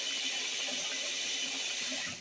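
Water gushes into a top-loading washing machine tub set for its largest load with bleach added, a steady close splashing fill that softens slightly at the end, with no talking.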